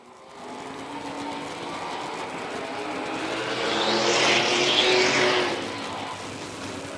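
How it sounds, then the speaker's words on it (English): Vintage race cars, including a 1965 Ford Mustang, roar around a track at a vintage racing event, a loud engine drone that builds as a car passes close and then fades, with no talk. "The 1965 Ford Mustang of Mac Tatum from Midlothian. He'll take the top spot back and move by lap traffic off turn 2."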